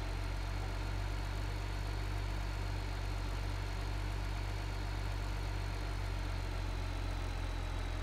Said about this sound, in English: I can hear the tractor bogging down